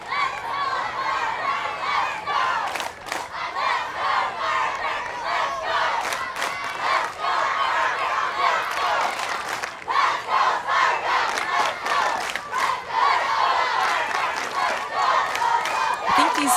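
A large crowd at a youth 12U baseball championship game cheers and shouts loudly and without a break, with children's yells and excited voices rising in bursts throughout.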